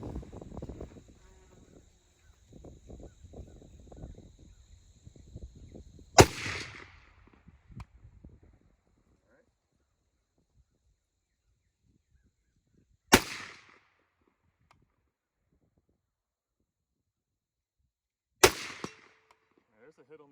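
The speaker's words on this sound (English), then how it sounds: "all 3 of those shots that I've fired so far have been flawless with the steel ammo" Three loud, sharp rifle shots from a Springfield M1A Tanker firing steel-cased ammo, spaced several seconds apart with near silence between, each followed by a brief echo; quiet talking is heard before the first shot.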